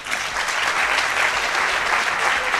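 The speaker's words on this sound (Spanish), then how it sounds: "vamos a recibir con un fuerte aplauso a Álvaro Sauras" Loud, sustained applause from an audience at a talk on electric cars, a dense even wash of clapping with no pauses, heard on its own.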